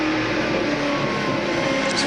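1997 V8 Supercar race car engine heard steadily through a corner at Calder Park, a continuous loud droning roar held at an even level without clear revving peaks.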